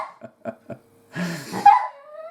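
A dog gives a few short soft huffs followed by a brief whining, whimpering vocalization, close and quiet, with no talking.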